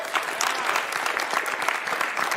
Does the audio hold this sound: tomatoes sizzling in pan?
no